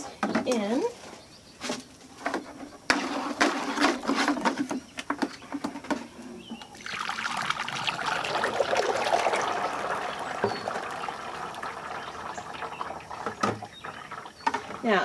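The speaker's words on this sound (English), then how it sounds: "with my sieve ready to go, I'm going to dump this in." Mixed glaze slurry dumped into a sieve in a home pottery studio: a brief clatter, then a sustained wet splashing pour and trickle, with a person talking before and after.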